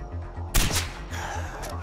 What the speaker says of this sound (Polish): No i ten strzał nie wszedł.